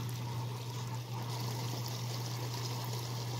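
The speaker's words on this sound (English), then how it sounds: "this is where the water pops back up out of the ground and you have what's called a spring" Hot spring water at 110 degrees wells up out of the ground and flows in a steady, continuous rush, with a low constant hum underneath and no voices.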